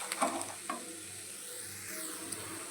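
Curry leaves and tamarind frying in a pan with a soft, steady sizzle, punctuated by a few quick stirring clinks near the start.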